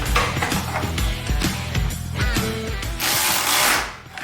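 Rapid ratchet clicks and mechanical tool noise up close during the installation of two Mishimoto electric fans in a truck. A louder, hissing burst of tool noise comes near the end.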